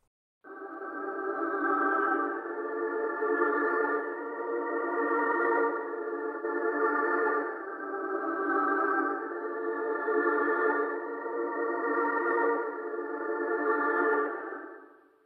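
A reversed chord melody for a drill beat made in FL Studio, treated with effects, plays as a sustained layered synth tone that swells and fades in repeating waves, steady and loud with no voices.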